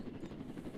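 Faint, steady thudding of helicopter rotor blades in a Roblox video game, a rapid rhythmic chop heard at a distance with no voices.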